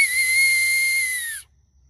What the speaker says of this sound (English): If you're ever in an emergency situation and you need a whistle, find an acorn cap.